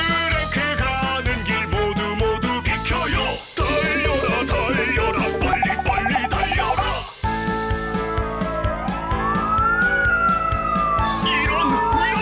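A fire engine siren wail glides up and down over a bouncy, upbeat children's song, with the music pausing briefly twice before it.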